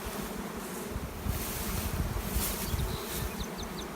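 Honey bees buzzing around stacked queen-rearing nuc boxes at a small commercial apiary, a dense continuous drone of many insects with a few passing near the microphone, under light wind noise.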